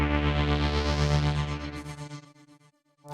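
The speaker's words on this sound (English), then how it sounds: "Now that we've got this rhythmic tremolator happening, it just gives it a bit more of a rhythmic kind of predictable sound to it." Soundtoys Effect Rack rhythmic tremolator pulsing a shimmering, pitch-shifting synth texture, loud at first with steady rhythmic chops, thinning out and dropping almost to silence before a short burst returns at the end.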